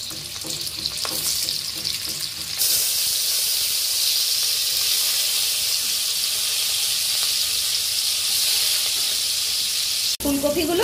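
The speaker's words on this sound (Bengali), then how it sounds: "তেলের মধ্যে আমি ফুলকপিগুলো দিয়ে দেব" Cauliflower florets hit hot oil in a pan and fry with a loud, steady hissing sizzle that jumps in intensity once they go in, ending with a brief clatter.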